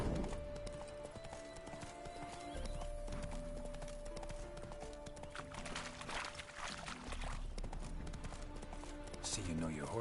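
Horse hooves clip-clop in Witcher 3, a steady trotting beat close by, layered with game music and a voice talking over it.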